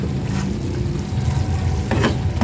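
Hotdogs sauté in a pan, a steady close sizzle with occasional clicks and scrapes of stirring.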